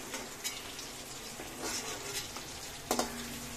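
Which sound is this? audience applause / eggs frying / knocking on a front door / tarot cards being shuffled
eggs frying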